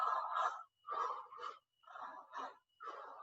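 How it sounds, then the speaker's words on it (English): During a standing senior exercise routine, a person draws a deep breath in and lets it out fully, giving a series of close, airy, wheezy breath sounds in a steady paired rhythm with short pauses between. "Inhale deeply, exhale completely"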